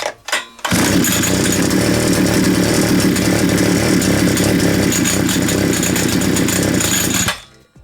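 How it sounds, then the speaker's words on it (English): A petrol strimmer is pull-started and its small two-stroke engine catches, revving loudly and steadily for several seconds before cutting off, with no talk. "grab hold of the old pull start and give it a couple of yanks and see when it starts up"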